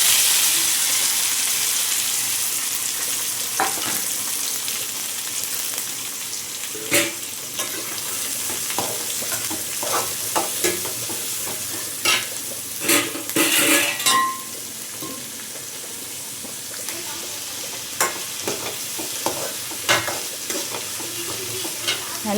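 Chopped onions sizzle and fry in hot oil for a crab curry, a steady crackling hiss broken by scraping stirs and occasional clinks of a spoon against the pan.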